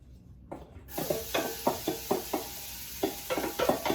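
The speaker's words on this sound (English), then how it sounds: "Right away, you're going to want to get your onions and garlic in there." Onions and garlic hit hot olive oil for a chili and start sizzling, with a steady hiss under repeated close scraping strokes of a spoon stirring the pan.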